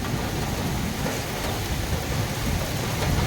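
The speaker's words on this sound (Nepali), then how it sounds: "पानी आयो" Steady heavy rain pours down with rumbling thunder blended into a dense, unbroken wash of noise, loud and close throughout with no voices.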